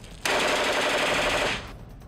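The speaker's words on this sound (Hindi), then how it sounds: "अचानक उनकी बंदूक गोलियां उगलनी शुरू कर देती है" An X-95 assault rifle fires one loud, close, sustained automatic burst of just over a second. The burst starts abruptly and is followed by a short fading echo.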